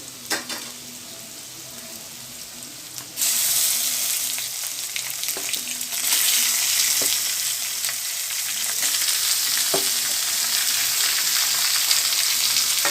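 Boneless chicken goes into a hot pan for Erode-style Pallipalayam chicken fry: a quiet sizzle jumps to a loud, steady fry about three seconds in, with occasional stirring taps throughout.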